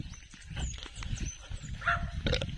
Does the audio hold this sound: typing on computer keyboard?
no